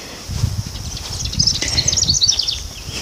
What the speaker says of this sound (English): I think that's the sound of the little brown bird.